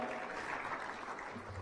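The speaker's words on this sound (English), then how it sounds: "Another round of applause for Arthur Miranda." A round of applause from an audience at a Speak For Africa keynote event, steady, even clapping held at a constant level throughout.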